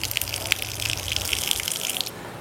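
Water gushes steadily and forcefully from a flexible tap with the pump running, a constant rushing splash with a low pump hum underneath, no voices.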